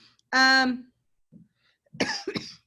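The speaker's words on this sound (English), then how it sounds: "I apologize for coughing so much." A couple of sharp coughs, close and fairly loud, separated by a brief pause, with a short throaty sound in between.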